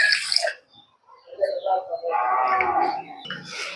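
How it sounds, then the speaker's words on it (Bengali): Two bowls of water pour onto one and a half bowls of sugar in a pan for syrup, a close splashing gush that swells midway while a voice speaks over the start. "দেড় বাটি চিনির সঙ্গে আমি 2 বাটি জল দিয়ে দেব।"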